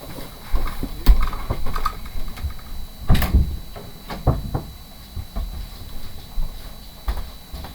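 A dog scratches and paws at a closed bedroom door in irregular bursts of scraping and thumping knocks, some sharp and loud, with short pauses between them.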